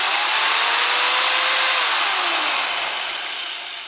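A cordless drill is revved while running off a portable power station, its motor whining up to a high steady pitch, holding, then slowly winding down as the sound fades; no one speaks.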